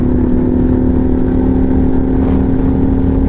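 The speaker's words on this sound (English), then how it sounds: "This is my 2021 Harley-Davidson Pan America Special." A 2021 Harley-Davidson Pan America Special motorcycle engine runs loud and close in a steady, even drone with a strong low hum for a few seconds.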